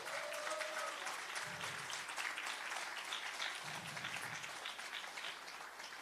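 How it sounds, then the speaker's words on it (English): Audience applauding at an adult basic education graduation ceremony, sustained dense clapping from a crowd throughout, fairly distant and even. "Everybody, please, a big round of applause for Jolene."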